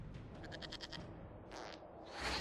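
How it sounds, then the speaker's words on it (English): A goat bleats in a series of quick wavering cries in a Dragon Age Inquisition cutscene, followed by a shorter bleat and a louder burst, set against low background rumble. "we discovered this man attacking the building with a goat"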